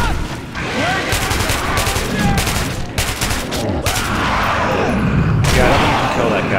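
Heavy gunfire in Metro 2033, repeated loud volleys of shots layered over constant combat noise, with shouting voices mixed in.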